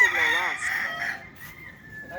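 A Texas gamecock rooster crows in a full, strained call near the start, the cry trailing off into quieter clucking and faint farmyard noise, with a few voices murmuring in the background.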